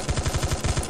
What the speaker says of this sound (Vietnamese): Súng máy.